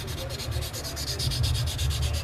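Edges of a plastic model kit part being sanded by hand, steady rapid rasping strokes, close and unaccompanied.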